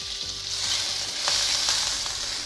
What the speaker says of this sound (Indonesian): Panaskan sedikit minyak lagi ya teman-teman, kemudian goreng udang dulu.